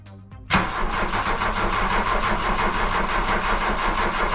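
VW Golf Mk1 Clipper Rabbit under restoration, cranked with the key: a brief starter whir, then the engine catches with a loud burst and settles into a steady, rough running idle close by with no talking.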